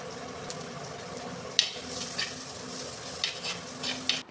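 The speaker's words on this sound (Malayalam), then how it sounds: "വെളുത്തുള്ളിയും ഇഞ്ചി മൂത്ത് വന്നതിന് ശേഷം അതിലേക്ക് ഒരു പിടി ചുവന്നുള്ളി ചതച്ച് വെച്ചത് ചേർത്ത് കൊടുക്കാം" Crushed shallots with ginger and garlic frying in hot oil for a Kerala fish curry, giving a soft steady sizzle broken by a few brief stirring scrapes, close but fairly quiet, with no voices.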